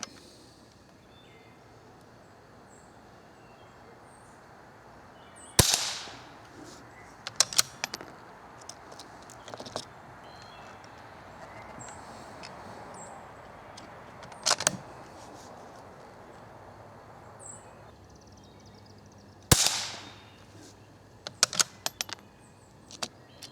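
CCI Quiet-.22 segmented hollow point rounds fired from a rifle outdoors, a few soft, sharp cracks spaced seconds apart, each followed by faint clicking and handling noises, with no talking.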